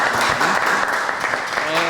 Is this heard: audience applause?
yes